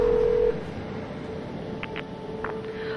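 A phone number dialed in the video game The Darkness: a steady tone gives way to a few short, quick keypad beeps over a low background hum.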